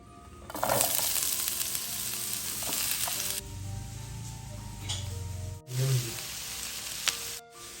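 An egg cracked into a hot oiled pan and left whole rather than scrambled sizzles steadily and close up, with a louder crackling burst partway through and no talking.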